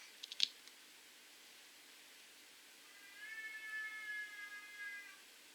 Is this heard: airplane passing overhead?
no